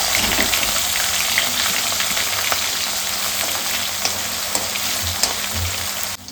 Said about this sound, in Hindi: साथ में ही इसके साथ डालूंगी मैं चॉप करके गार्लिक और थोड़ा सा टमाटर